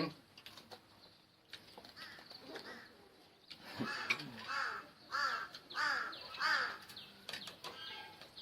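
Crows caw in a series of harsh, moderately distant calls, with several rasping caws clustered in the middle, sometimes overlapping, over a faint outdoor background with some wing flapping.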